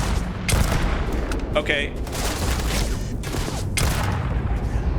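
Gunfire in the video game Starfield, a few loud shots bursting over a dense, noisy game soundscape, with a player speaking briefly over the action.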